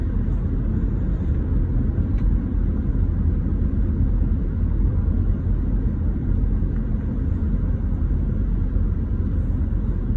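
A car drives along a long road out from a resort toward the main road, with a steady low engine and road rumble heard from inside the cabin throughout.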